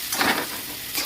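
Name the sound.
onion frying in a pan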